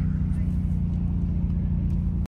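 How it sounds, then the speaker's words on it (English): A car engine holds a deep, steady rumble close by outside a Maserati and Alfa Romeo street festival of speed, with a brief rev, loud and continuous until it cuts off abruptly. "nice little rev for us."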